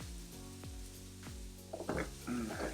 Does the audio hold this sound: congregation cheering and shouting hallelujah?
no